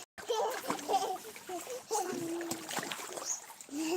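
Water splashes and sloshes in short bursts close by in a bath while a voice and an adult speak over it.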